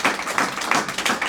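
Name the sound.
audience round of applause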